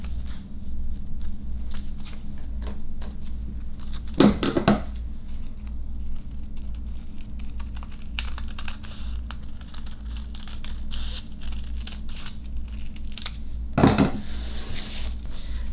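Scissors snip through stacked crepe paper in short, crisp cuts, with two louder rustling bursts as the sheets are handled, all close up and quiet between strokes.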